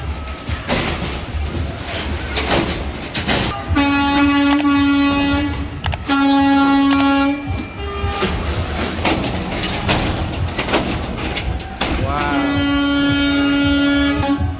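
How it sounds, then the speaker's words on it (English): Air horn on a garbage truck that runs on CNG and diesel, sounding in three loud sustained blasts of about one to one and a half seconds each, over steady engine and street noise. "The kids love the air horn."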